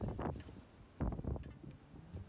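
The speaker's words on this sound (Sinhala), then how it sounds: "ඇත්තටම හුළං කපල්ලම තමා. බලන්නේ හුළඟ." Strong wind gusts across a mountain pass on the off-season hike to Sri Pada, buffeting the microphone in loud bursts with low roaring rushes between quieter lulls.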